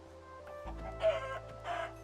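Chickens cluck in the Minecraft video game at a crowded spawn area, with two short clucking bursts over a low steady background hum.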